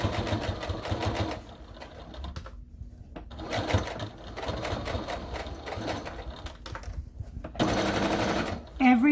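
A sewing machine stitching fabric for an armchair caddy, running in rapid bursts separated by short pauses, close and clear, with a person talking at moments between runs.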